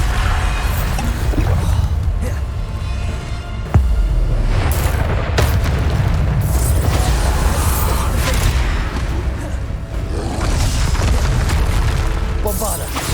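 Repeated Bombarda explosion spells in Hogwarts Legacy go off as loud booming blasts amid constant combat noise and clashing effects, with a voice speaking over the action.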